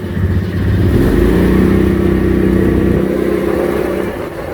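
A 6x6 off-road vehicle's engine runs close by and revs up under throttle, its droning pitch climbing and holding steady before settling back, loud and continuous with no talking.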